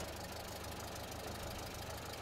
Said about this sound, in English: Engine's got a missing.